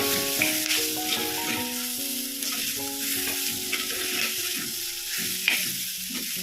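Mackerel pieces frying in a pan for Kerala-style thoran give a steady, close sizzle with stirring throughout, under a continuous melodic music bed.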